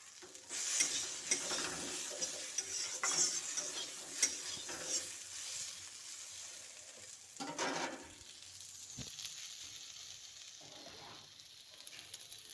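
Fish curry spices with cumin powder, chili powder, slit green chilies and chopped tomato being sautéed in a pan, a faint sizzle with intermittent scraping stirs and clinks, quiet and close.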